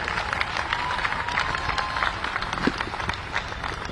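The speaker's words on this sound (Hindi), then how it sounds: "हम तालियों की गड़गड़ाहट से हम लोग स्वागत करते हैं" At a Gaurav Diwas event in Gwalior for Atal Bihari Vajpayee's birth anniversary, a large crowd welcomes Chief Minister Shivraj Singh with lively, dense applause. Individual claps rise out of a steady crowd roar.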